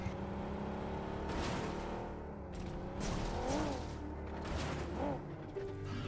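A car engine in the video game PUBG roars and surges in loud rising and falling waves, with whining revs and heavy thuds as the vehicle flips over, all close and continuous.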